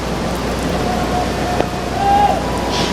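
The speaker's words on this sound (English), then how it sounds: "Rain starting to fall down hard again." Hard steady rain falling on an outdoor football pitch during a match, a dense even hiss that holds throughout with no pauses or breaks.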